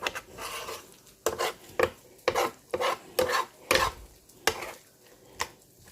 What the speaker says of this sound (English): Let me try to get a spoon so I can try to scoop it all up.